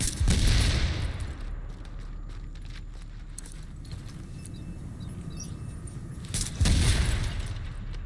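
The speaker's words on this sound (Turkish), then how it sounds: "Etrafta çok fazla patlayıcı duyuyorum." Explosions and scattered gunfire in the video game The Division, with two heavy booming blasts framing a steady rattle of distant shots and debris.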